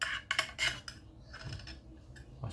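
A metal spoon clinks and scrapes while scooping a combination carp fishing bait, giving a few sharp close taps and rustles.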